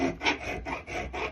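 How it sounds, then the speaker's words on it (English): A half round file rasps against a knife guard lug while it is shaped, giving four or five even back-and-forth strokes, close and clear. "I'm using a sort of a radius or a half round"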